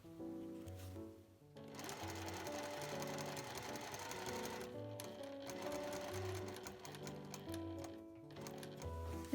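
A sewing machine runs in steady bursts while back-stitching about one to two centimetres on a fabric shoulder bag, its rapid needle clatter close and loud with brief pauses between passes.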